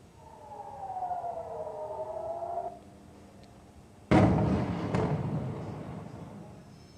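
A wailing air raid siren in northern Israel rises and holds, then cuts off; after a pause a sharp thud lands, followed by a louder, sustained siren tone.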